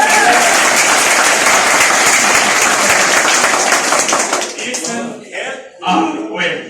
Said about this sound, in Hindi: अभी मेरे लिए एक जोरदार ताली दीजिए।